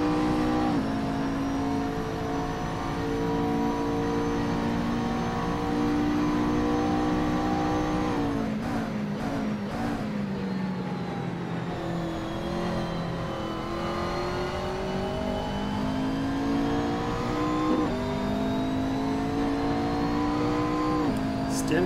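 Race cars including a Mercedes-Benz circle Road Atlanta in a sim racing game, engines droning steadily with rising and falling pitch as gears change, a continuous close engine note under commentary throughout.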